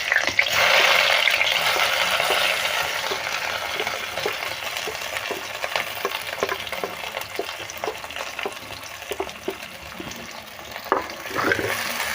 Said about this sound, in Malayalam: ഉലുവ പൊട്ടിയതിന് ശേഷം നമുക്ക് അരിഞ്ഞു വെച്ചേക്കണ പച്ചമുളക് ഇഞ്ചി വെളുത്തുള്ളി വേപ്പില സവാള ഇട്ട് കൊടുക്കാം